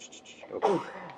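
A single short sneeze bursts out close by during a budget workshop meeting, preceded by a quick breath.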